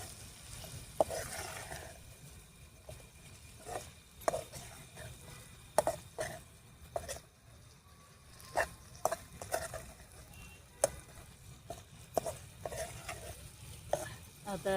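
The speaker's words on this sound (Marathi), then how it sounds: "आता यामध्ये पनीर टाकू. आता याला परतून घेऊ." Paneer sautés in hot oil in a home kitchen while being prepared for a masala paneer dish. A soft, steady sizzle runs under repeated clinks and scrapes of a spoon stirring in the pan, all fairly quiet.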